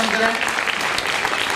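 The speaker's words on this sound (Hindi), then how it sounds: "एक बार जोरदार तालियां बजा करके उनका अभिनंदन करें" Audience clapping loudly to welcome a poet at a Hindi kavi sammelan event, a dense burst of applause with a voice speaking briefly over its start.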